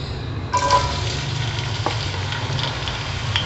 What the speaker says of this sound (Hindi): प्याज को हम ब्राउन होने देंगे।